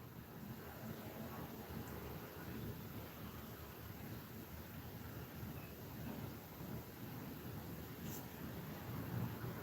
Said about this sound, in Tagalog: umuulan yata